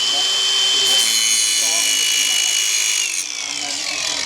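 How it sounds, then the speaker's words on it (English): A power grinder works a cast metal part on an antique tractor in a barn, a loud steady high-pitched whine that eases slightly toward the end, close by. "Grind."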